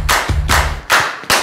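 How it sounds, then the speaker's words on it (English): A group clapping along in time, four loud, evenly spaced claps close by with no talk over them. "Everybody, clap along."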